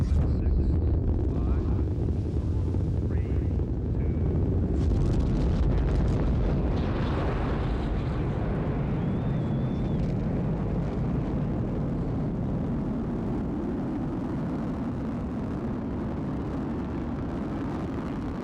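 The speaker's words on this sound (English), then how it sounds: "We are go for main engine start." Space shuttle main engines roaring at liftoff on a Hubble deployment mission, a sustained, loud, deep rumble with broadband crackle that holds steady throughout.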